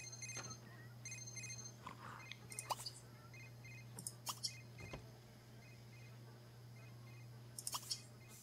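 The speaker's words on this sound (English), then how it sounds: "Whose phone is ringing?" A telephone rings in The Sims 3 on PC, short repeated electronic tones recurring through the clip over a steady low in-game hum, with occasional soft clicks and thumps in between.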